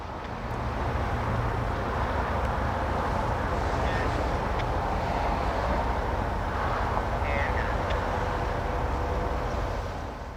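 A CSO3 freight train shoves empty gondolas back into Hartford Yard, a steady, fairly distant low rumble and rolling roar holding throughout with a few faint metallic squeals and no talking.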